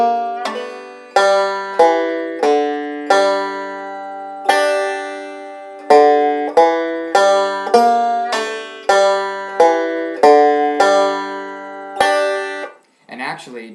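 A fingerpicked guitar plays the Big Tilda lick with thumb and index finger: a steady sequence of clear, ringing plucked notes, each decaying before the next, ending in a brief scuffing noise.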